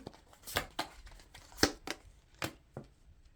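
Tarot cards are drawn one by one from a deck, giving a series of quiet, sharp slides and snaps at an irregular pace, close by, with no talking.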